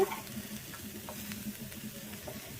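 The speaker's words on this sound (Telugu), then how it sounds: "పప్పు టమాటాలోకి కాకరకాయ ఫ్రై ఇలా చేస్తున్నాను" Bitter gourd slices fry in a pan with a soft, steady sizzle and occasional light stirring scrapes, heard up close and fairly quiet throughout, with no voices.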